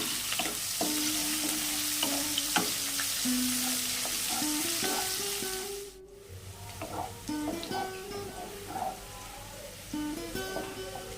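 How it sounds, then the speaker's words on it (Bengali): Chopped onion hits hot oil in a pan for a fish kalia, giving a loud, continuous sizzle with occasional stirring scrapes, a brief dropout, and then the frying carries on. "এখন দিয়ে দেব একটি পেঁয়াজ কুচি"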